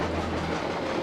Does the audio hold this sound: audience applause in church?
no